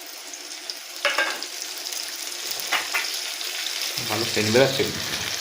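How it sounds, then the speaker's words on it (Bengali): Potatoes and onions fry in a pan as ground spice paste is added, giving a steady sizzle with scraping stirs and wet splashy bursts toward the end. "দেখুন আলু আর পেঁয়াজ খুব ভালো করে ভাজা হয়ে গেছে এবার আমি বেটে রাখা মশলাগুলো এর মধ্যে দিয়ে দেবো"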